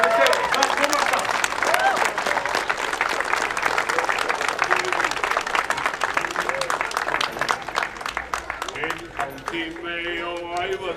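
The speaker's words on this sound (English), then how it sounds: "a round of applause for the sale" Audience applause at a Newport 300 reenactment event in 2022, loud and sustained clapping from a crowd that fades near the end as singing voices begin.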